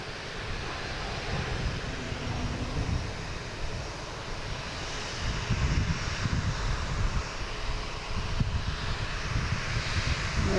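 An airliner takes off on runway 4 Left at Boston Logan airport, a steady, broad, distant roar that swells slightly partway through, with no voices.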